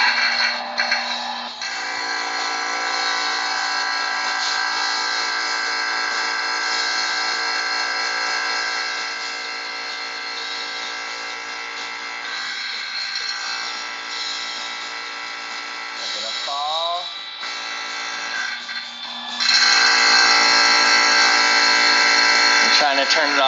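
Vacuum pump running steadily on a chamber holding helium balloons, a constant buzzing whine with brief dips and a louder stretch near the end, with speech over it.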